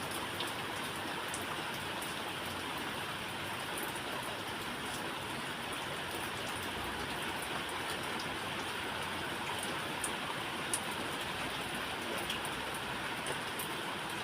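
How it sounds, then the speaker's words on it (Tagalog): Rain falls steadily on a rainy day, a continuous even hiss of drops on surfaces, soft and unbroken with no voices. "At ito, ulan na."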